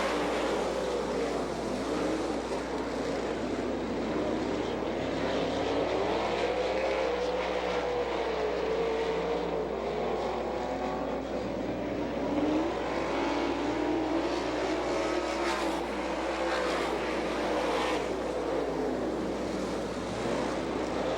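Sprint cars at an All Star Circuit of Champions race in Butler, Michigan, roar around the track after the green flag, a dense, continuous engine drone rising and falling as the field passes, heard from the grandstand with no talk.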